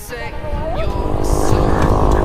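Motorcycle engine, either a Rouser 135 or a Honda Beat, revving and accelerating up close during a group year-end ride, loud and steady, with voices and road noise around it.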